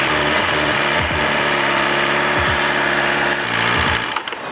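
A cold BMW S1000RR sport motorcycle idling up close, a loud, steady buzzing rumble with slight rhythmic pulsing that cuts off abruptly near the end.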